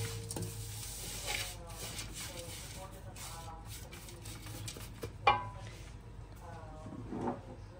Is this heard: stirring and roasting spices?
yes